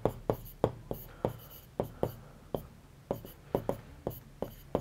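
Chalk or marker strokes on a classroom board during a Class 12 maths lesson, a steady series of sharp taps and short scratches, close and clear with no talk.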